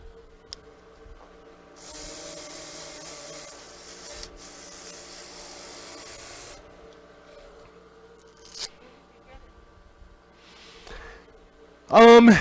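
A sandpaper tool rubs against a wood turning with a steady hiss for several seconds, then fades to faint, scattered noises before a short loud burst at the end.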